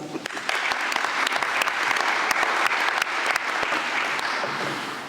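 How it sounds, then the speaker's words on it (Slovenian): An audience at a round-table event on the anniversary of a military museum in Pivka gives sustained, dense applause that fills the room, loud and steady from start to finish. "En velik aplavz."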